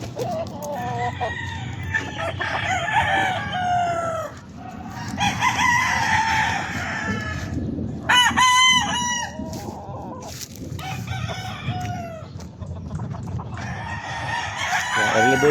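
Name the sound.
fighting roosters crowing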